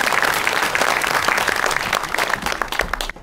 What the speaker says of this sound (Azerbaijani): Alqışlarımızla.